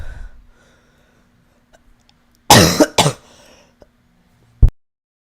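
A person coughs close by in two quick, harsh bursts, then a single short cough a moment later; nobody talks.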